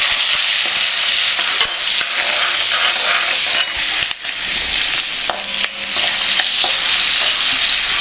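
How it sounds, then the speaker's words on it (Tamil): Chopped onion and green chillies frying in a pan, a loud, continuous sizzle with scraping stirs and brief dips as the food is moved around, close up with no talking. "பச்சை மிளகாய் இதில் போட்டு"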